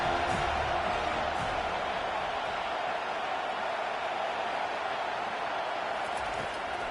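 A large crowd at a college football stadium roars steadily behind the defense on a big third down, a dense, sustained wash of cheering and noise that stays loud throughout.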